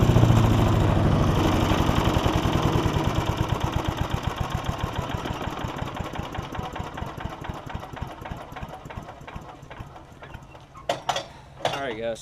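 A Briggs & Stratton 5 hp engine on a Yard Machines chipper, its fuel tank rusty, idling nearby with a steady, slightly uneven chug that fades somewhat. Brief clatter near the end.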